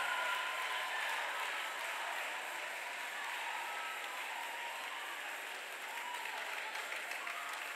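Sustained applause fills a church as a minister of song walks up, with many hands clapping in a dense, even wash that holds steady and eases only slightly over several seconds.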